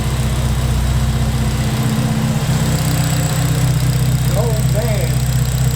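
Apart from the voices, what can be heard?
car engine idling with Kraftwerks Rotrex supercharger spinning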